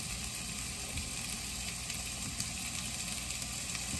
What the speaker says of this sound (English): This is a saute one.